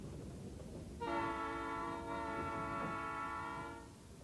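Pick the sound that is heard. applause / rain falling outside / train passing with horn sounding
train passing with horn sounding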